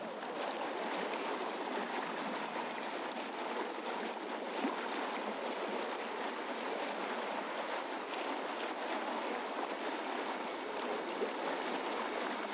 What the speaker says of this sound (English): Landfall sailing steadily into the endless blue of the open ocean.